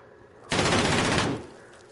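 Rapid automatic gunfire in Call of Duty on PS5 makes one sustained burst of under a second, loud and close against quiet game ambience.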